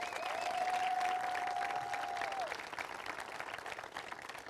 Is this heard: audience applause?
yes